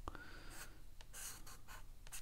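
A charcoal pencil drawn across paper gives faint, dry scratchy strokes in short bursts with small gaps between them, quiet and close with no talk.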